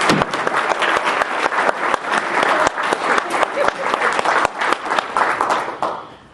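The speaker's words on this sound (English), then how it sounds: "can we give another round of applause to our wonderful, outstanding faculty and staff representing." Loud, dense applause from a crowd honoring faculty and staff at a university college of education showcase evening, with sharp claps throughout before it fades out.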